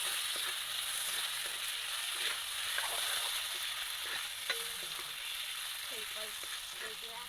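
Potatoes frying in oil with onion, ginger, garlic and spices in a wok, giving a steady soft sizzle with occasional light scraping clicks of stirring.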